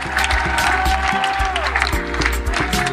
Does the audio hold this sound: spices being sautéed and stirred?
no